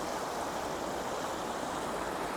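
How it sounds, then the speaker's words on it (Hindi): Rushing stream water pours steadily in a natural outdoor setting in Montana, a loud, unbroken broadband roar that holds constant throughout with no voices. "और ये जो पानी का शोर है, ओए होए होए, थोड़ा सुन लेना"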